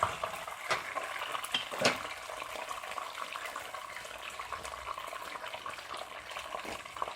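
Garlic frying in a pan over lowered heat for pasta puttanesca, a soft, steady crackling sizzle with a brief scrape of stirring, close and fairly quiet with no talk.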